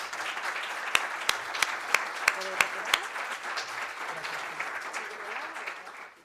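Audience applause at the Mulleres dos Mares event, a steady crowd of clapping with a run of loud, evenly spaced claps from one nearby person early on, then fading slightly toward the end.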